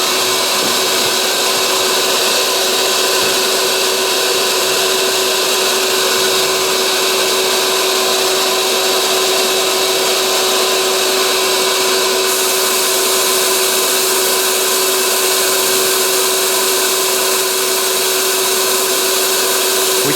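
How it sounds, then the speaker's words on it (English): Shop dust collector running during glass sandblasting and carving, a loud, constant close whine and airy roar with a steady tone throughout, no talking. "We'll turn the dust collector on."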